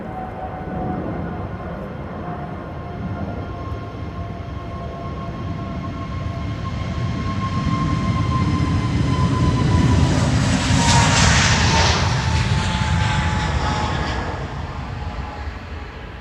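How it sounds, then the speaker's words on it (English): A KLM Airbus A321neo spools up on runway 36L at Schiphol and takes off, a loud building jet roar with a whining engine tone that swells to a peak and then slowly fades. "the KLM A321neo also spooling up"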